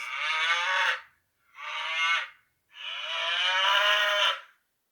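A recorded cow moos three times, each call loud and close with a rasping tone: two shorter moos and then a longer drawn-out one, with clear silent gaps between and no talking.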